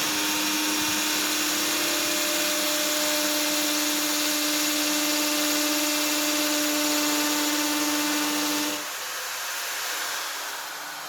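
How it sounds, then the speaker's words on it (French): A power drill bores holes in a pine cone while building a Christmas candle holder, a steady loud whirring whine running for about nine seconds before cutting off into quieter noise. "Donc je vais percer mes 3 autres trous."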